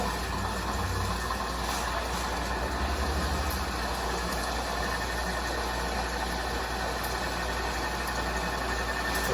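An old restored gas pump runs steadily while pumping fuel in bypass, giving a constant close mechanical hum and drone with no break across the whole stretch.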